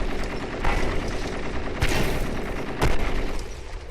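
Small-arms gunfire in Eximius: Seize the Frontline, with dense rapid bursts crackling continuously and a few louder sharp shots punching through a busy battle din, close and loud, with no speech.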